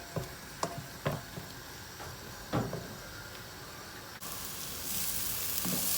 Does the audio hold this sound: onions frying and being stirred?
yes